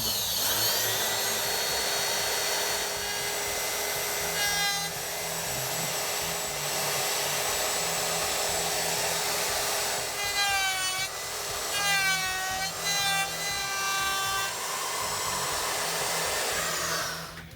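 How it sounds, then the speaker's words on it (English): Handheld router run freehand, trimming a cavity in the wooden body of a homemade electric guitar: a loud, steady high-pitched whine with rising and falling tonal sweeps as the bit bites into the wood, no talking. "And I do my routing by freehand."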